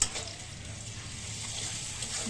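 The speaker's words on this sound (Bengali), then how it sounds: "বউয়ের পছন্দের জিনিস উস্তাবাজি ভাজি লাড়া দাও" Bitter gourd frying in a pan on a gas stove while being stirred, a soft, steady sizzle with a faint knock of the utensil at the start.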